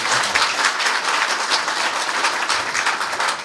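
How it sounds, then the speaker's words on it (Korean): Audience at a Korean-American association's extraordinary general meeting applauds steadily to approve a motion, a dense, sustained wash of clapping throughout with no talk. "여기에 찬성을 하시면은 박수로 부탁합니다."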